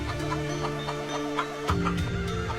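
A hen brooding an egg clucks in a low, steady series of close calls, with a faint tonal hum running beneath.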